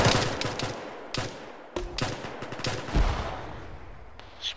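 Gunfire rings out in an Arma battle, sharp single shots and short bursts spaced irregularly across the clip, some close and punchy, others more distant, with no talk over them.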